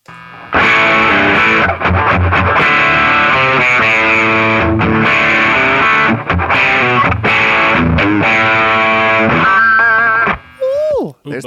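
Loud, heavily distorted Fender Stratocaster electric guitar through a ProCo Brat distortion pedal with tones maxed, playing sustained chords and riffs continuously, ending with a brief bent note and a pause.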